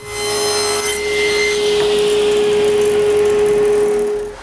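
A saw rips a large wood panel into shelves cut to depth, giving a loud, steady, continuous whine with a constant high tone over grinding cutting noise, running without a break and with no talk.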